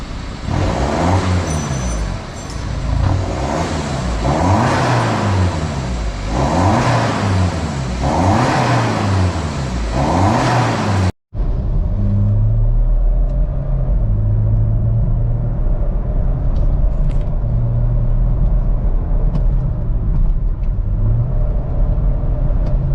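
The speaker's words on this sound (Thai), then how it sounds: "เร่งประมาณนี้นะครับผมกับ BMW X4 นะครับ ดีเซล กับชุดท่อท้าย Euro Art Exhaust" Diesel BMW X4 fitted with a Euro Arts aftermarket exhaust accelerates hard, its loud rumbling exhaust swelling through repeated rising revs, then a cut to a steadier, deeper drone.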